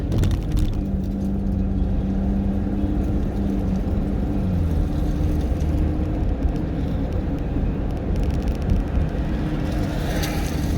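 A single car rolls past at night on a Staten Island street, a steady low road rumble with engine drone over continuous background noise, no one speaking.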